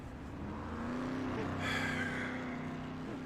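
A dirt track race car, the number 9 Dryden car at an indoor nationals event, drives past with a steady engine roar that swells and holds, heard at moderate distance without speech.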